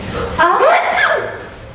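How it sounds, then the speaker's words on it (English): A single sudden sneeze bursts out close by, followed by a brief voiced exhale. "Why are you sneezing?"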